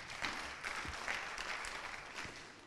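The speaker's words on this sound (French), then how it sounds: "vous pouvez l'applaudir" An audience at an innovation pitch event in France applauds as a company director is introduced, a moderately faint, steady patter of many hands with a few louder claps, no speech over it.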